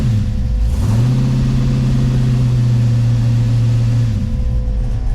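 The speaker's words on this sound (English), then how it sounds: "My Firebird runs again." Pontiac Firebird running again after a different engine was swapped in, a steady loud near idle with a deep low rumble that rises briefly in a quick rev then settles back to an even hum.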